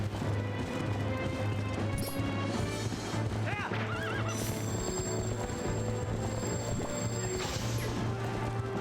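Galloping horse in The Legend of Zelda: Twilight Princess HD gives several whinnies over continuous hoofbeats, set against a dense, loud backdrop of game music and battle effects that holds steady throughout.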